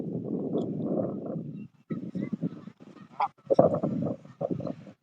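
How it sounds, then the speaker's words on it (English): Several geese honk in loud, harsh bursts, close by at a botanical garden, with a brief pause before more choppy calls follow. "Got a couple of geese."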